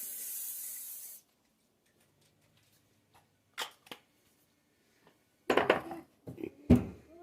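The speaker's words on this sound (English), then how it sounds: "the next step is I want to grease my cookie sheet" A short, soft hiss of cooking spray misted onto a cookie sheet, followed by quiet silence and then a few light metallic clatters and handling knocks of the pan.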